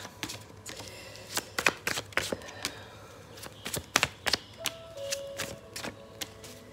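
Tarot cards are shuffled and tapped in a quick irregular series of crisp snaps and riffles, close and fairly quiet, with no talking.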